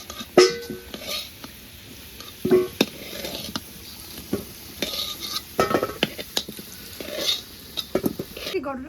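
Potatoes with a little turmeric fry in a pan, with repeated scraping stirs of a utensil against the metal over a steady sizzle, close and fairly loud, in irregular bursts.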